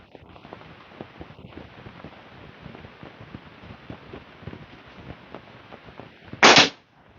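A single sharp arrow strike into a target near the end, loud and brief after a long stretch of quiet outdoor crackle and faint background rustling; bow shot at an archery target.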